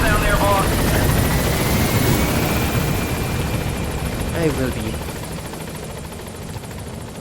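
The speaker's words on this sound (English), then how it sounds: "So let's get up this chopper." Helicopter rotor chopping and engine whine in Metal Gear Solid V, loud and continuous with someone talking over it, the noise easing off toward the end.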